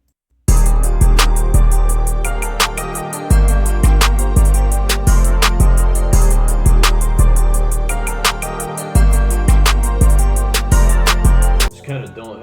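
A trap beat in a melodic style, with booming 808 bass notes that follow the chord root changes alongside sparse claps, hi-hats and a melodic loop, played loud and steady with short gaps where the 808 drops out.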